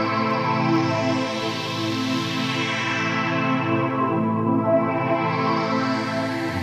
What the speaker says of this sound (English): I wanted to use this filter that I have and be moving the cutoff